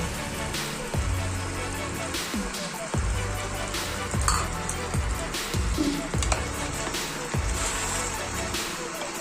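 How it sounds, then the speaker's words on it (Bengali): Mutton for rogan josh, mixed with tomato sauce and crisp fried onions, is stirred in a pan. Roughly once a second a spoon scrapes the pan, over a constant, moderately loud sizzle. "এগুলো দিয়ে মাংসটাকে খুব ভালোভাবে নাড়াচাড়া করতে হবে যাতে নিচে লেগে না যায়।"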